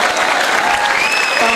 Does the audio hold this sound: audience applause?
yes